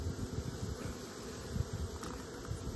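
A packed honeybee colony hums inside its hive, a continuous, even buzz of many bees, soft and close with no voices over it.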